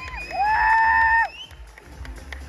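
Audience at a bikini fitness competition on a show stage cheering and whooping loudly in a brief burst, with one long sustained high whoop, then fading into softer crowd murmur and scattered applause.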